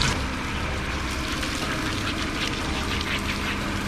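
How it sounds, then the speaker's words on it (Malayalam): Water splashed repeatedly onto an elephant, Thechikottukavu Ramachandran, during its bath, a steady close wash of sloshing and spattering that runs on without a pause. "ഞാൻ വെള്ളം ഇങ്ങനെ അടിച്ചു കൊടുക്കുന്നല്ലോ."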